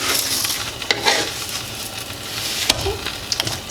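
A Taco Bell-style crunchwrap supreme filled with Flaming Hot Cheetos sizzles as it fries in a pan, a constant crackling hiss broken by a few sharp scrapes and clatters of stirring, with no talking.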